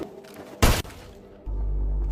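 A pistol fired in a tense film scene: one loud, sharp blast stands out, followed by a low sustained rumble of score or ambience.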